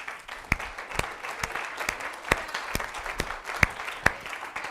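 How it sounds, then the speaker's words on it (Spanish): A church congregation applauding, with scattered sharp individual claps rising above a softer ongoing patter, fairly close and moderately quiet, with no voice over it. "Un aplauso al Rey."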